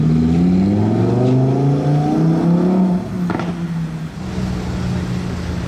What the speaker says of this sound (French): Ça fait bizarre de face de voir une Porsche arriver et qu'elle soit si haute